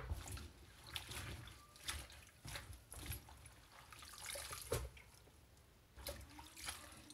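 Tap water running into a sink to wash lettuce greens, a steady faint splashing trickle with small bumps and clunks of handling, close by.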